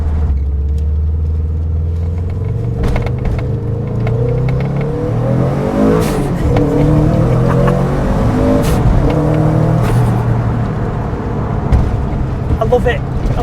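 A VW Golf Mk2 GTI fitted with a Subaru 4x4 conversion engine rumbles and revs continuously, the exhaust growling loud and close as it pulls away, with a few sharp transient knocks over the steady engine roar.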